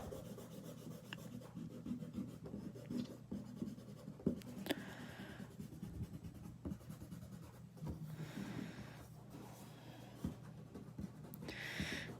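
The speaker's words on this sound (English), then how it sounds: "Just getting rid of all that pencil." An eraser rubs pencil lines off a drawing in steady back-and-forth strokes. The scratchy friction is faint and close and continues without a break, and no voices are heard.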